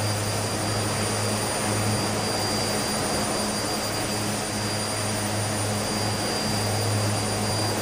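Twin Otter turboprop engines in Microsoft Flight Simulator drone steadily through a climb, with a constant loud propeller hum and high whine holding even throughout.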